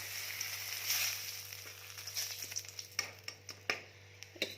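Dried red chilies crackle and sizzle in reused frying oil for a fish masala curry, a soft steady fry with scattered sharper pops and stirring clicks toward the end, no voices.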